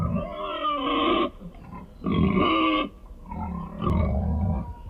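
A pig grunts loudly in three long, rough bursts separated by short pauses, close and alone.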